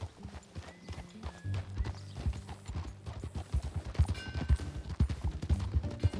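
Steady clip-clop of horse hooves trotting close by in Red Dead Redemption 2, a rhythmic stream of hoofbeats with a brief faint whinny-like tone over a low rumbling backdrop.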